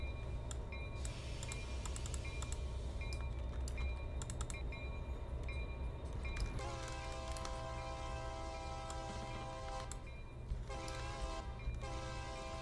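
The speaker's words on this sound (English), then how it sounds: "let's get this mixed freight train moving" A mixed freight train in the railroad game Blue River Mainline Remastered rumbles steadily with a continuous low engine drone, then its horn sounds loudly in several sustained blasts partway through, with no talking.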